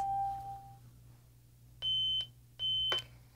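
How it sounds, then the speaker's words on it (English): A Jeti RC radio control system sounds repeated electronic beeps after losing signal: two sustained tones follow a brief initial tone over a low steady hum. "Now it's beeping because we've lost signal"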